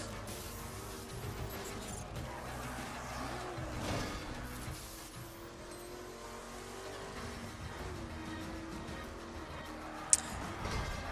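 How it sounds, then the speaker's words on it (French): A car engine revs and drones continuously in the racing video game The Crew, with a loose skidding feel and no clear tire squeal standing out. "Pourquoi ça dérape comme ça?"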